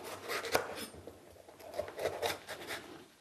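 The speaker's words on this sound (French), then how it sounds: "Pour les poivrons, nous allons les couper en des morceaux un petit peu plus gros" A knife chops bell peppers into large chunks on a cutting board for a summer tofu and rainbow vegetable stir fry, giving a steady run of close, crisp taps and knocks with no talking.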